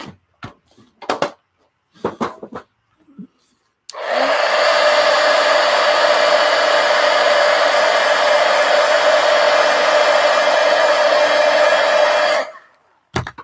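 A hair dryer blowing on watercolor paint, a loud steady whirring roar lasting about eight seconds after a few light taps and handling knocks, then switching off.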